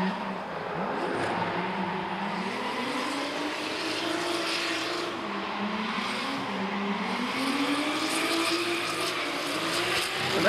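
A D1NZ pro drift car runs a qualifying lap at Baypark Stadium, its engine note rising and falling steadily through the corners with sustained roar and tyre noise, at moderate distance, no voices.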